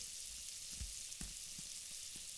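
Butter sizzles in a hot frying pan, a steady bright hiss with a few soft pops and taps, heard alone and close up.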